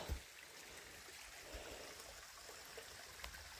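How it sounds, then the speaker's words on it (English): A small waterfall spills a thin flow of water over rocks beside a mountain hiking trail, a faint, steady trickle heard from a short distance. "there's a little waterfall. A little bit of water anyway, going down over it."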